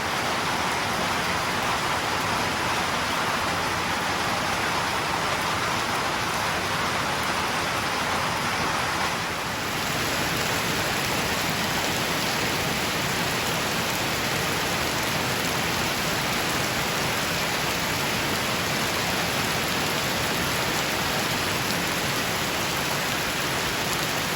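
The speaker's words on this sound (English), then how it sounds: "I guess even the frogs don't like getting beat by the rain" Steady, heavy rain pours down continuously, a dense even hiss with no breaks and no voices.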